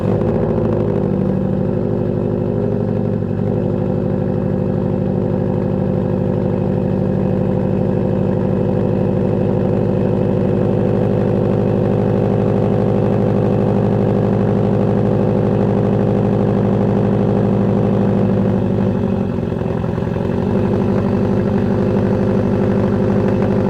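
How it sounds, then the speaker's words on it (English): A Subaru STI with a high-flow catalytic converter, resonator and no mufflers idles loudly and steadily close by, with a deep, rumbling exhaust note and a brief blip of revs near the end. "It's a high flow cat with a resonator, no mufflers."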